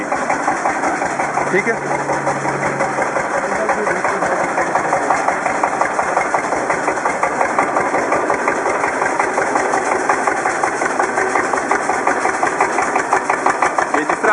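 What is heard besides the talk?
biogas-fuelled engine generator revving up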